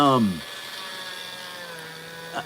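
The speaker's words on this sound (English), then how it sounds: "I'm drilling these, pre-drilling these holes" A drill pre-drilling holes lets out a short motor whine that winds down within half a second, then its ringing tone fades out into quiet.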